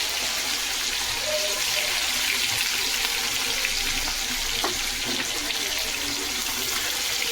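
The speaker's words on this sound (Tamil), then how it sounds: "நல்லா பொரியட்டும்." Chicken 65 deep frying in hot oil, a steady dense hiss and crackle of bubbling oil running continuously at an even level throughout.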